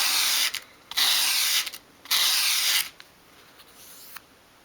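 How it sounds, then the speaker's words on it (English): Sandpaper laid flat on a work surface rasps against the edge of a small wooden dolls house shelf piece, three loud, close scraping sweeps of about a second each, separated by brief pauses. "with your sandpaper flat on your work surface, hold the piece at a 45-degree angle and sweep it towards you, bringing it into an upright position"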